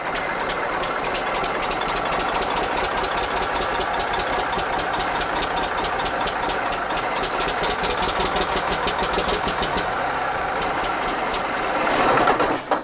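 Diesel engine of a Ford CLT9000 cabover truck running at a steady idle with a knocking mechanical clatter, continuous and close throughout, swelling slightly near the end, with no talk over it.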